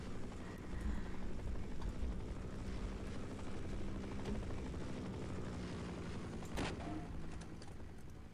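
A steady, loud helicopter rotor drone from the video game Half-Life runs throughout, with a sharp burst of noise near the end.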